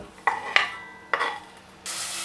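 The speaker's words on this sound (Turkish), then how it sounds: "2 adet orta boy soğanımı güzelce yemeklik doğradım. Şimdi bunu güzelce kavuracağım." Two medium chopped onions are sautéed in a pan for stuffed zucchini, heard as a soft steady sizzle. Three sharp scraping stirs of a utensil against the pan cut through it, and a brighter hiss rises at the end.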